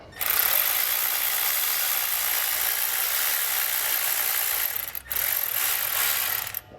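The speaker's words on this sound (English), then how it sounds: "And then your kit will also come with these clamps, and we'll tighten those down." Worm-screw hose clamps being tightened with a power driver on an exhaust heat shield of a 2019 Chevrolet Silverado, a loud continuous mechanical whir that briefly stops and then resumes.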